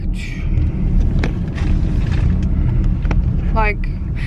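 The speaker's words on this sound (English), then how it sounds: "I am driving home." A car cruises along a highway on a cross-country road trip, with steady road and engine rumble plus wind noise throughout and a voice speaking over it.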